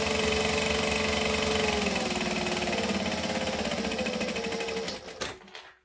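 Sewing machine running while top stitching, a loud steady motor whir with rapid rhythmic needle clatter lasting about five seconds before winding down into a few soft clicks.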